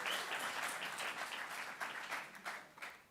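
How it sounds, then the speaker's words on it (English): Audience applause fills an event hall at the UploadVR Showcase presented at the AIXR event, a dense, steady wash of many hands clapping throughout, loud and sustained with no talk over it. "So give yourself a big round of applause."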